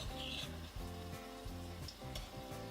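Spoonfuls of borrachinos bread dough frying in hot sunflower oil give a steady, close sizzling hiss that runs through the whole stretch, partly masked by rhythmic background music.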